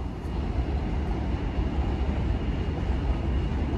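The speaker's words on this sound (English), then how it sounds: "Oh, it's the J train." A New York J train rumbles past in East New York, Brooklyn, heard from the street as a steady, fairly loud low roar that does not let up.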